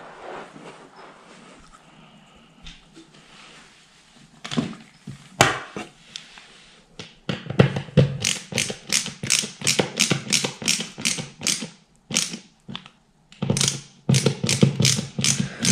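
Screws are tightened while an Ikea Malm chest of drawers is assembled, starting with scattered taps and clicks, then rapid rhythmic ratcheting bursts of a screwdriver in repeated runs, close by.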